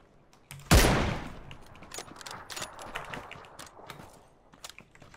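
A single loud, close gunshot from the PUBG video game cracks out and rings away, followed by fainter, scattered shots and clicks in the background.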